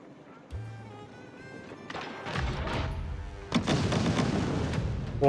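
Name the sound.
siege fire hitting walls in Age of Empires 4 video game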